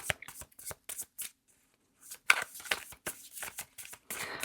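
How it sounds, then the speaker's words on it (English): Tarot cards are shuffled by hand, producing quick bursts of crisp riffling and flicking with short pauses between them, close and fairly quiet, with no talk. "I already pre-shuffled, but I'm just shuffling a little bit more."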